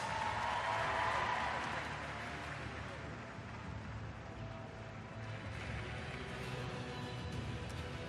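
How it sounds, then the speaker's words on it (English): Crowd applause at a supertri E World Triathlon Championship race for the finalists, a broad hiss of clapping that swells early and then settles into a steady wash with a voice talking over it. "A round of applause for all of our finalists."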